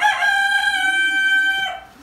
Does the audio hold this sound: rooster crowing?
yes